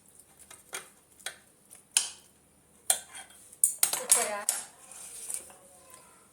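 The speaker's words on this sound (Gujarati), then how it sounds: "આપણે હવે આ ડીશમાં કાઢી લઈશું." Tempered leftover roti being served into a dish, with a string of sharp clinks and taps of a metal spoon against the pan and plate, irregular and close, with near-silent gaps between the strikes.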